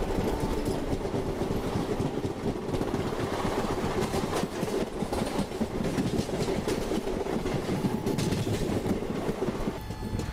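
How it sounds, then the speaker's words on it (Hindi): The Sri Sathya Sai Prasanthi Nilayam Superfast Express passes close alongside a moving train, a loud, steady rush of wheels and wagons with clickety-clack rattling that holds for the whole stretch without letting up. "खैर, वो ट्रेन हमें क्रॉस कर रही होती है"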